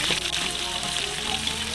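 Garlic frying in a pan, a dense, even sizzle close by with a few small crackles and pops running through the short stretch, no voices over it.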